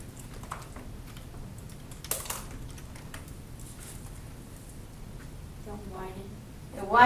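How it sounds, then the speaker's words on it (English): Keys tap on a computer keyboard in short irregular bursts, fairly faint and close, under and between a teacher's spoken explanation during a math lesson on function families. "go ahead and type in the next one"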